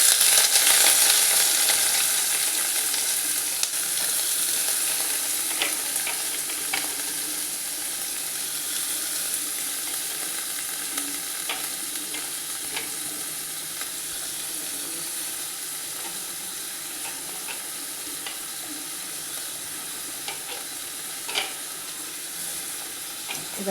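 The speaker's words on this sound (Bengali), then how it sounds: "তেলটা গরম হয়ে গেছে, আমি পেঁয়াজটা দিয়ে দিচ্ছি" Chopped onion dropped into hot oil and stirred, giving a steady, close sizzle that eases slightly over time, with occasional light clicks of a utensil.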